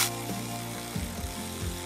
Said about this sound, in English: Just gonna go back with a hand wrench and make sure that this is adequately tightened